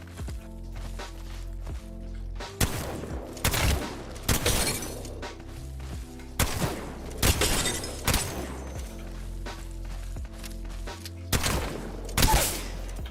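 Mastiff shotgun firing in the Apex Legends firing range, a game soundtrack of several loud, sharp blasts spaced a second or two apart, each with a crashing tail, over a steady low background hum.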